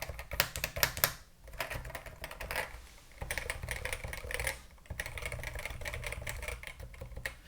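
Rattly clacking of typing on an URSA mechanical keyboard with unsilenced keys, a steady close-up run of keystrokes with brief pauses, the rattle coming mainly on the upstroke.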